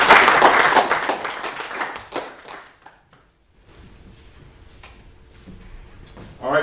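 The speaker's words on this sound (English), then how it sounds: "give them a round of applause and thank them" A burst of applause from a small group at a military change of command ceremony claps loudly for about two seconds, then fades into near silence with faint room noise.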